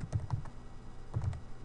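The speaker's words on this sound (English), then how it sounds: "let's start typing our code" Quick bursts of typing on a computer keyboard, a few rapid clicks, a pause, then another short cluster of keystrokes, close and clear.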